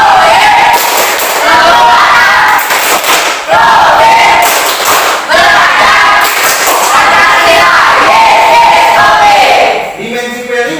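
Secondary school class in a classroom performing a loud rhythmic clapping chant together, bursts of claps and shouted voices repeating in regular phrases for about ten seconds.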